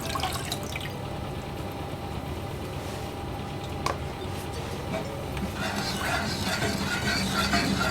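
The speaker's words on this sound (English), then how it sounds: "And we're going to add our water into that." Water being poured into a pot of brown sugar barbecue sauce in a kitchen, soft steady splashing and dripping with a few clinks, close and moderately quiet, with no speech.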